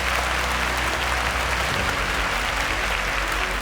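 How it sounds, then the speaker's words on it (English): A studio audience applauds a quiz contestant on a semi-final episode, with dense, even clapping sustained throughout under a low musical hum. "A round of applause for him."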